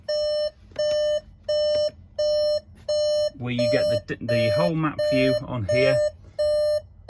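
Door-open warning chime from a 2022 VW Transporter T6.1 Kombi with a digital dash: steady, evenly spaced electronic beeps repeating about once a second, loud and close, continuing while someone talks over them.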